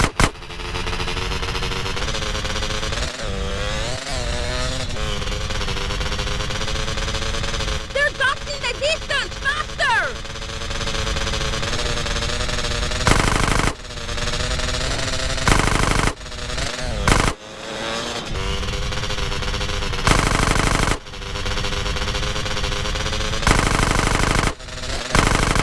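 Sustained automatic gunfire in GTA San Andreas, loud and close, with rapid bursts rattling on for long stretches and broken by short pauses and sharp impacts.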